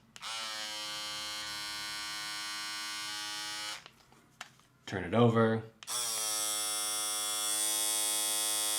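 A Philips Bodygroom 7000 electric body groomer runs with a steady, loud, high-pitched motor buzz that stops briefly while someone speaks, then starts again just as strongly.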